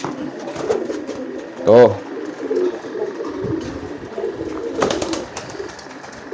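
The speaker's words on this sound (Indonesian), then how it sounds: "alhasil merpatinya bakalan giring seperti ini" A courting pigeon gives a short, loud throaty coo up close, with faint further cooing and rustling around it and someone speaking briefly.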